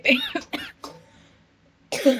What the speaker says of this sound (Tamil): இருமல் வர வருது